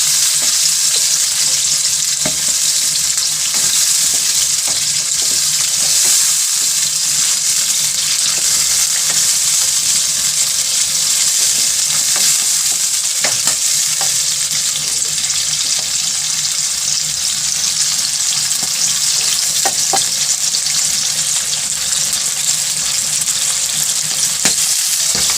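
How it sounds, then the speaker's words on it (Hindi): Chicken liver fries in hot oil with salt, a loud continuous sizzle heard up close for the whole stretch, with occasional faint clinks of stirring. "इसको 1 से 2 मिनट तक फ्राई करेंगे।"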